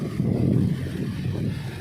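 Low, rumbling gusts of wind on Siargao Island, Philippines, buffet the microphone, loud and close, swelling and easing over a couple of seconds.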